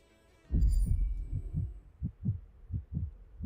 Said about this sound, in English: What's with the heartbeat?